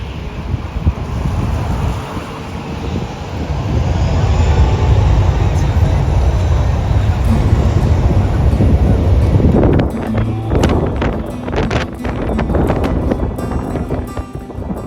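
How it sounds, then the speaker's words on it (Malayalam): Strong wind from an airplane taking off on the runway at Taipei Songshan Airport buffets the microphone in a loud, continuous roaring rush, giving way to sharper crackling gusts near the end. "അത്യാവശ്യം നല്ല കാറ്റാണ് ഇപ്പോൾ വരുന്നത്"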